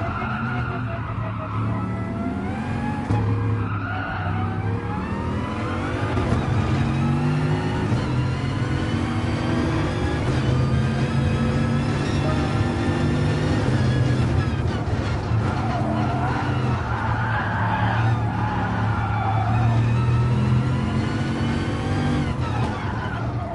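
Race cars lapping in Gran Turismo Sport, a loud continuous engine roar with shifting revs and tire squeal as several cars drive close together throughout.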